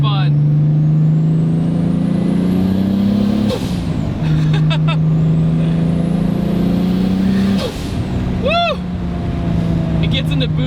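A Nissan 240sx engine revs hard and climbs steadily through the gears, rising pitch broken by shifts, with turbo whooshes and a sharp flutter of boost release, loud and close inside the car.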